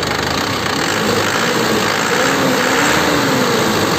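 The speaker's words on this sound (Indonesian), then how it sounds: "Ini mesinnya, suaranya masih renyah ya, kelihatan suaranya bulat dan renyah" A 2010 Panther LS Turbo engine idles in a loud, steady, close-up rumble with an even, continuous running beat and no voices over it.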